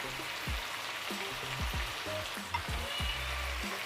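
Chicken pieces frying in hot oil with chillies, a steady close crackle and sizzle with a few stirring scrapes and small pops, continuous and without talk.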